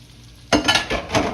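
Battered shrimp dropped into hot oil in a home kitchen, a sudden loud hiss and bubbling sizzle breaking out of near-silence, swelling in waves with faint utensil clinks.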